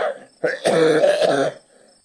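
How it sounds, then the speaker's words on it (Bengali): Suppressed, muffled coughing from a man choking on betel-leaf juice in a horror audio story: a short cough, then a longer strained bout of stifled hacking, close and fairly loud, fading into quiet breaths. "আচমকা মুখবিবরে বাধা পেতে চাপা কাশি শুরু হলো"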